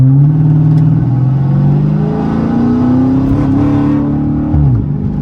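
A Dodge Challenger SRT 392 Scat Pack with a Hemi V8 accelerates hard on the road, its loud engine note climbing steadily in pitch through a long pull and dipping briefly near the end, with no talk over it.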